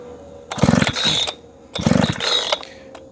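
The starter cord of a Husqvarna 3120XP chainsaw is pulled twice, each pull a close rasping, ratcheting whir of about half a second, separated by a pause, with the engine not catching.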